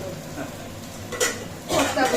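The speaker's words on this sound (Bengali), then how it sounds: "চায়ের বাটিয়া নামিয়ে রাখলাম" A metal tea pan is set down in a home kitchen where fish is frying, giving two short clattering knocks against a low background hum.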